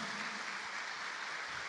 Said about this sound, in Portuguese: Essas palmas são reconhecimento